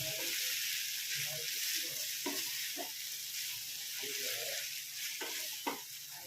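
Soaked poha (flattened rice) being stirred and sautéed in a pan for Maharashtrian pohe, a soft steady sizzle with scattered scraping stir strokes throughout, fairly quiet and without talk.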